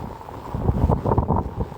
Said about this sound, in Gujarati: બહુ અતિશય પવન છે